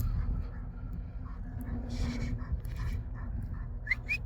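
A four-year-old playful dog pants softly and rhythmically close by, a continuous breathy huffing with a few faint whimpering yips near the end.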